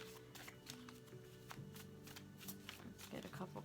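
Tarot cards shuffled by hand, a soft continuous riffling and slapping of card stock beneath quiet talk and a low background hum, faint and close.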